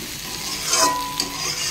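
Fish curry broth with potatoes bubbles and sizzles in a pan at close range, a constant hiss with a few louder spoon stirs or scrapes in the middle.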